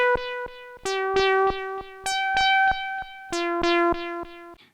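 A Stylophone Gen X-1 plays short synth notes through its delay effect, each tone trailing into softer echoes that extend the sound, close and clear with no talk.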